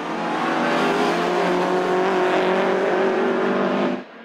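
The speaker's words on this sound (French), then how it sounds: "Le début de course mettait à l'honneur la nouvelle Renault Clio 3 de Claudie Tank, Monsieur Autonius et Vincen" Renault Clio 3 race cars lapping the Zolder circuit in Belgium: a loud, sustained engine roar at high revs, close and steady, that cuts off abruptly near the end.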